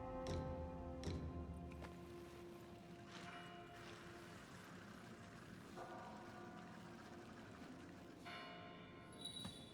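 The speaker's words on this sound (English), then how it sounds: "Ring the bell pinwheel to reunite with Face of Past." A bell pinwheel being rung in the video game Wuchang: Fallen Feathers, giving several sustained metallic bell strikes with long ringing tones that overlap and decay, plus a brighter chime near the end, over a steady low ambient bed.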